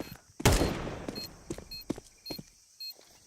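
Counter-Strike gunfire during a pro match on the Mercury map, opening with one loud blast and followed by a string of quicker, lighter shots and clicks that close out the round.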